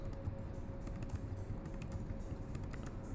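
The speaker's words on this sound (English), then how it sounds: "Sorry if you hear clicking in the background, my dog's walking around." A dog's claws click on an indoor floor, producing faint, irregular taps that repeat throughout, set against a steady background hum.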